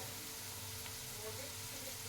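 Potatoes frying in a pan for a pea-peel and potato fry, a steady close sizzle running evenly throughout with no talking.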